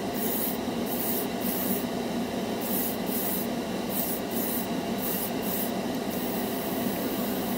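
A $14 dual action airbrush sprays a steady hiss of air and paint with rhythmic pulses as the trigger works, close and continuous, no voices.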